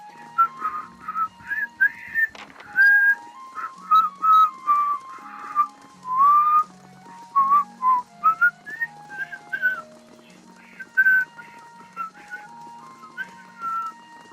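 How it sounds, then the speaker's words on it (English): A person whistles a wandering melody in short phrases with brief pauses, clear and close, with no talking. "I can do a little whistle."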